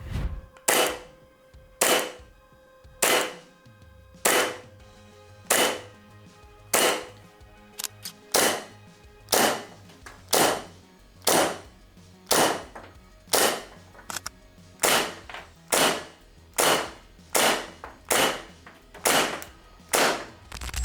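A Novritsch SSP2 airsoft gas blowback pistol fires single sharp cracks, about one shot per second in a long steady series, each shot loud and close.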